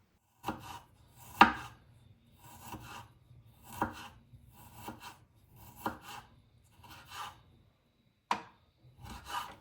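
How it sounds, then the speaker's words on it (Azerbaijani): A clove of garlic is sliced thinly on a cutting board for French onion soup, giving a steady series of crisp knife taps, about a dozen close strokes in irregular bursts with brief pauses between them. "Bir ədəd sarımsağı da nazik doğrayıram."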